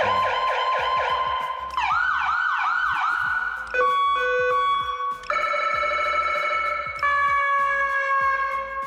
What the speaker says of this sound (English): We just put additional siren tones, whatever the customer wants, whatever we're in the mood of